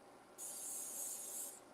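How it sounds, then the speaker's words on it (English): Cooking spray misted lightly into a skillet: one short, steady hiss lasting just over a second, close and soft, with no voices. "I'll spray it lightly."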